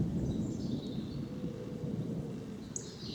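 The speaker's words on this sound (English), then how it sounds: "there you go, is indeed thunder" Low rolling thunder rumbles steadily on an outdoor countryside walk at Ayot Green, a continuous deep grumble with faint birdsong above it and no talking.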